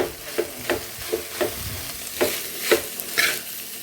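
Okra pieces fry in a pan in a Havyaka Brahmin style home kitchen, with a soft continuous sizzle broken by a ladle scraping and stirring in uneven strokes, close and alone.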